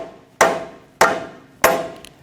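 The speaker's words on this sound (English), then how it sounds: "Take another rubber mallet and I'm just going to give it some taps." Three sharp, evenly spaced knocks as a rubber mallet taps a wheel bearing into the steering knuckle of a 2007-2017 Jeep Patriot, each strike close and loud with a short ringing decay.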